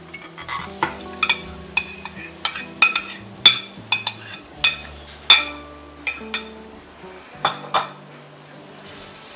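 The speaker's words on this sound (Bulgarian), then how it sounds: "И бъркаме." A spoon stirs yogurt into fried flour in a pan for an eggplant moussaka, striking the pan with sharp, evenly spaced clinks about once a second over a low background of stirring.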